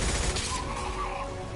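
A short stretch of suppression gunfire in Mass Effect 2, a dense continuous rattle of shots heard alone with no talk.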